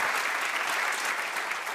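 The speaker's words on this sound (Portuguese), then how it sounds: "Salva palmas para vocês." Brief, dense burst of audience applause in a Portuguese radio show setting for the son of Zé Salgueiro, loud and continuous clapping filling the whole moment with no talk.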